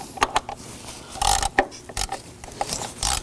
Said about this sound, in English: Using a ratchet and a 10mm socket,